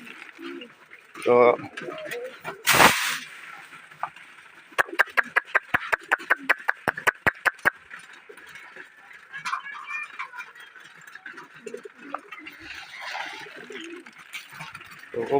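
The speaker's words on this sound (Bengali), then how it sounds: "ওই যে কবুতর ছাড়ছে কিছু আজকে, এক খাঁচারগুলো 26 পিস ছাড়া হয়েছে।" Pigeons coo steadily near a home loft after a cage of 26 birds is let out, with a quick run of sharp claps partway through and faint voices in the background.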